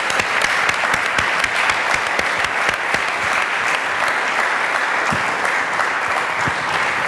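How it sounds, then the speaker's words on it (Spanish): Sustained applause from an audience after a talk on quantum physics at a breakfast event, steady and dense clapping throughout with no speech over it. "esto merece un gran aplauso y un reconocimiento"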